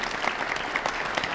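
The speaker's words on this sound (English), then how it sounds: "Applause." Audience applause at a community event about a changing city, with students graduating from Lakehead University in Thunder Bay, a steady patter of clapping hands filling the short moment with no speech.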